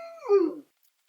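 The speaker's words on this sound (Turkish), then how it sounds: "Burada gayet sevimli çiftlik köpeklerimiz de var efendim." A farm dog on a livestock farm in Arnavutköy gives a single short whining howl, close and clear, falling off into silence.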